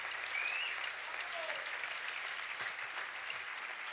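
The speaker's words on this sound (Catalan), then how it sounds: "un fort aplaudiment" Applause from a small crowd at a big band's tenth-anniversary concert in Ontinyent, steady clapping at moderate volume.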